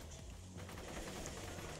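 Rapid gunfire from a weapon in the video game Borderlands 2, a dense continuous burst of shots running steadily through the whole moment at moderate loudness, with no voices over it.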